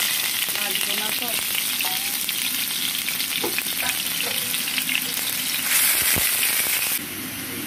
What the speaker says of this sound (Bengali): তো আমার পেঁয়াজ ভাজা হয়ে গেছে